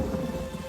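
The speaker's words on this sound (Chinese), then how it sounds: "风大雨急" Rain and thunder on a stormy, windy night make a brief, continuous wash of heavy rainfall with a low thunder rumble underneath, steady and fairly close.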